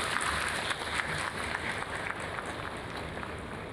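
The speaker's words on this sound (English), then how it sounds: "Give yourself a big round of applause as you deserve it." Scattered clapping from a convocation ceremony audience, fairly faint and irregular, sustained for a few seconds without voices.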